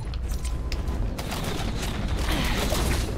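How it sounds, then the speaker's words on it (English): Gunfire in the battle game Naraka: Bladepoint, a dense, loud volley of shots and bursts that thickens midway and continues steadily without talk. "I'm being shot at."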